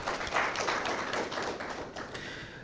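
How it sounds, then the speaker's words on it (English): Audience members at an evening forum on a constitutional amendment process clap for an arriving guest, a quiet, brief scattering of claps heard from some distance. "A big round of applause for him."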